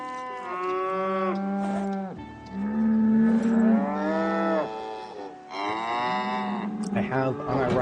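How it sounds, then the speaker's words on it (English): Cow mooing in the Project Zomboid video game, several long, loud, drawn-out bellows repeated one after another with short gaps between them. "I have unironically considered removing the sound of the cow moo from the game files"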